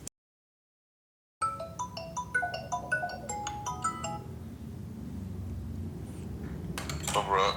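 A phone rings with a bright, stepped melodic ringtone after a moment of silence, repeating in clear tonal bursts and then fading into room noise and some clatter near the end.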